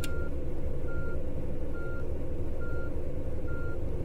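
Tour bus in Tourist Bus Simulator reversing, its backup alarm beeping five times in a steady, evenly spaced rhythm over a loud, constant engine rumble.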